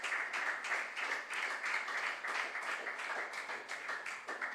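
Audience applause for a school team at a junior science and maths quiz: a steady, moderately loud round of clapping from a crowd, even and continuous for the whole stretch.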